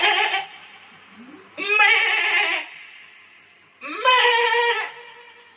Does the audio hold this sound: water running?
no